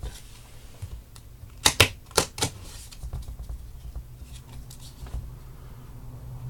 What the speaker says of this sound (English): we take our 4 current wrestlers, our independent wrestlers who came in for this show, and we shuffle a bit